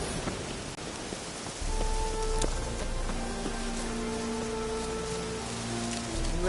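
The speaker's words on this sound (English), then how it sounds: "Rain." Rain falls in the video game The Witcher 3: Wild Hunt, a steady broadband hiss that thickens after a quieter opening, with faint sustained tones in the background.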